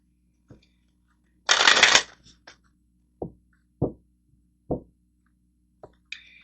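Akashic oracle cards are shuffled close by in one brief riffling burst, followed by several soft, separate taps and plops as cards are handled and set down.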